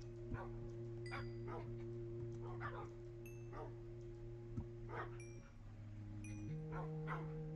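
Dogs in a Minecraft-style survival game bark and yip in short scattered bursts over a steady electronic background hum, fairly faint.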